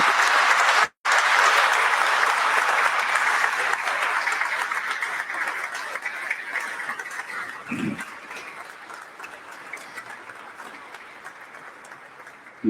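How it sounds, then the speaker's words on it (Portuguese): Sustained applause from a large crowd at a church feast-day Mass, loud at first and gradually fading in intensity over several seconds. "uma salva de palmas por este momento"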